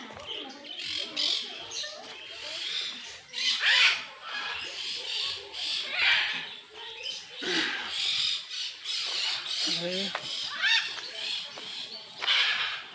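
Parrots at a zoo in Sáenz Peña, Chaco, Argentina, squawk and chatter noisily in a dense, continuous flock, harsh calls overlapping from nearby.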